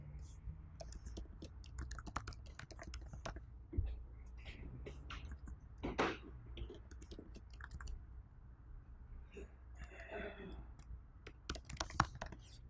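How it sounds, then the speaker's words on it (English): An address is typed on a computer keyboard for a Google Maps search, quiet irregular key clicks in short bursts at close range, with a faint voice in the background. "And here we can just type in the address"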